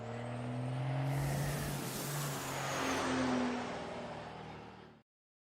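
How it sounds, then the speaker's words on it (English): Loud truck sound effect, engine rumble and revving with air brake hiss, played as a continuous roar for about five seconds, then cut off abruptly. "I know people want to see and hear the truck."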